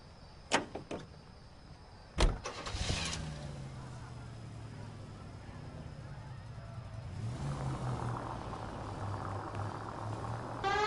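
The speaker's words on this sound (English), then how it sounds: "Nice car, Roy." A car in the 1940s Los Angeles detective game L.A. Noire: doors thump shut, then the engine starts and drives with a steady low hum that rises gently as it pulls away, with no voices.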